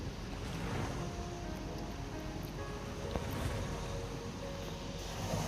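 A fast wave rushes in during Steal a Brainrot as a continuous roaring wash of surf and wind-like noise. It stays loud and even throughout the few seconds, with no talking over it.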